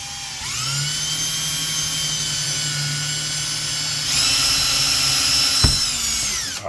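A power drill tightens a screw while mounting Kenwood KFC-S6966 6x9 speakers into behind-the-seat truck boxes, giving a steady whirring whine that rises in pitch partway through, with a brief click near the end.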